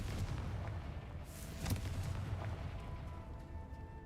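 A Confringo fire spell in Hogwarts Legacy bursts into a single broadband boom about midway, rising briefly out of a steady low rumble of game ambience that continues before and after.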